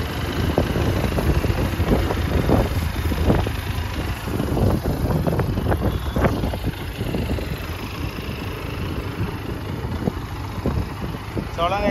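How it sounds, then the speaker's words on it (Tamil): A Benelli TRK 502 BS6 2022 motorcycle idles after a pressure water wash, a steady engine rumble running throughout while someone talks over it nearby. "ஸ்டார்ட் பண்ணி கொஞ்சம் ஐடியில் விடுவோம்."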